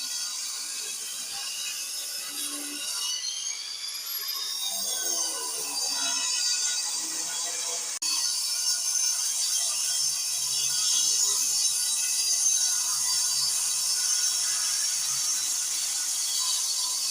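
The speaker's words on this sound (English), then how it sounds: "This is because they are grinding the wall." A power tool grinds into a wall during electrical piping installation, a steady, harsh high-pitched whine with shifting pitch that carries on continuously at moderate distance.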